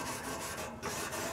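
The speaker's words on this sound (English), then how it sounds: "I'm gonna give it a quick clean while the grates are still hot." A grill brush rasps steadily across hot grill grates just after cooking turkey burgers, a close, continuous scraping scrub with a brief pause partway through.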